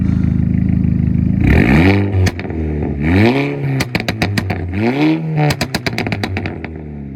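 Loud motorcycle revving close by, engine surging up and down several times, followed by rapid bursts of sharp exhaust pops and crackles as the revs drop.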